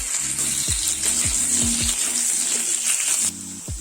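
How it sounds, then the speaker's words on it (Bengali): Potatoes fry in oil for a fish curry, a continuous bright sizzle with a low hum beneath and several short bumps, easing slightly near the end. "আলুগুলো ছেড়ে দিলাম, এগুলো একটু লাল লাল করে ভেজে আমি ফিরে আসছি"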